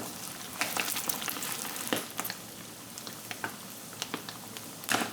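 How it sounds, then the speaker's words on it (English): Battered pork pieces deep frying in hot oil, a steady close sizzle with scattered crackling pops and a few sharper spits, no voices. "you deep fry the pieces until it's like nice crunchy golden brown"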